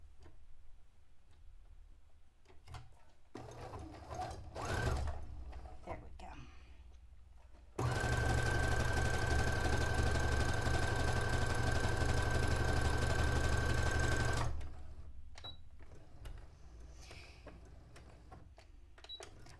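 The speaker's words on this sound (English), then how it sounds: "I like driving really fast when I'm driving my sewing machine." A sewing machine runs steadily at high speed for about seven seconds, stitching a white costume dress, fairly loud and alone, with quieter room noise and handling sounds before and after.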